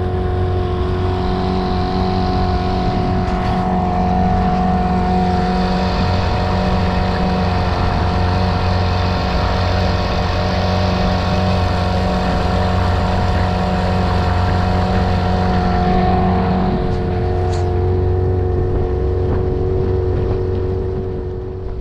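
A motorboat engine runs at steady revs for the whole stretch, a loud, close, constant drone with a low hum and no real changes in pitch, plus brief splashy accents near the end.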